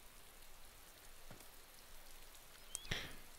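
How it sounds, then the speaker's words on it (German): Rain falls in the video game DayZ as a quiet, steady hiss of drops, with a couple of brief sharper taps near the end and no voices. "es regnet noch mehr."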